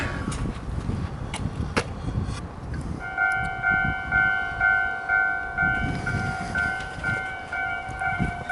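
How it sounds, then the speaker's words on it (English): A passing train rumbles steadily, and partway through a bright, sustained two-tone signal or bell-like horn rings out over the moderate noise of the cars. "Here comes the choo-choo."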